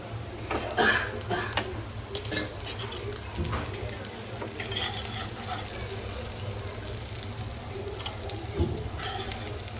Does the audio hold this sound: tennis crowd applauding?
no